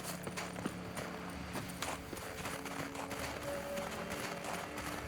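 Horse hooves clip-clop in a steady trotting rhythm in the video game The Witcher III: Wild Hunt, moderately close and alone over a faint ambient bed.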